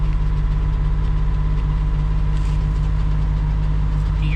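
A 1987 BMW 528e (E28) idles with a steady, loud low-pitched throb and an even pulsing rhythm, heard close up with no talk.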